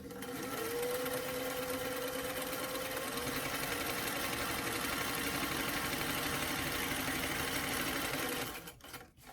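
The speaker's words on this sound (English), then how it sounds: "take a zigzag stitch down the left and right back opening" A sewing machine runs a zigzag stitch along the back opening of a small doll dress, a steady close whir that holds for about eight seconds and then winds down and stops.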